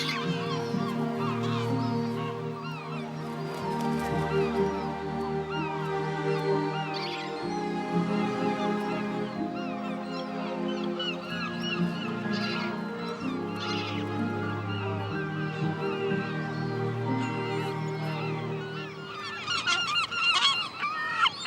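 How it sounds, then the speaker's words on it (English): A busy gull colony on a Brittany clifftop, with dense, overlapping squawking calls running continuously and loudly throughout, no talk. "The clifftop gull colony is a hive of activity."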